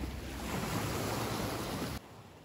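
Calm sea waves wash softly along the shore at night in Yalta, a faint, steady hiss of surf that thins abruptly near the end.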